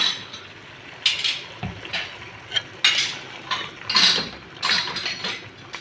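A spoon scrapes and clanks against a metal pot in repeated bursts as ground tomato masala is stirred into a mutton curry, close and fairly loud with quiet pauses between strokes.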